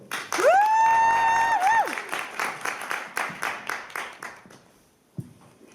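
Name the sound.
audience applause for Heike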